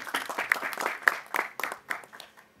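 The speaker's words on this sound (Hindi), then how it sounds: "जोरदार तालियां इनके लिए।" Scattered audience applause at a film trailer launch event for Hotel Milan, a brief uneven burst of claps with a couple of sharp whistles that thins out and fades toward the end.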